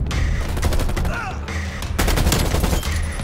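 Rapid automatic bursts from a Krig 6 assault rifle in Call of Duty: Black Ops Cold War, loud and close, with a brief pause between two long strings of shots.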